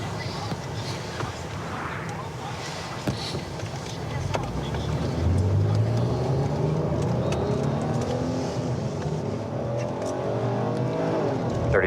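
A car approaches along a road at night during a police patrol, its engine noise swelling from a steady background rumble and rising in pitch as it nears, with faint talk and wind noise around it.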